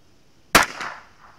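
A single sharp crack from a .22LR rifle firing Wolf Match Target ammunition, close and loud, followed by a short fading echo.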